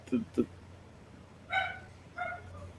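A dog yips or barks twice in quick succession, somewhat distant, followed by two shorter bursts; a faint steady hum sits underneath, and the sounds come during a conversation.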